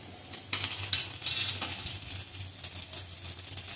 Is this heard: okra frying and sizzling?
yes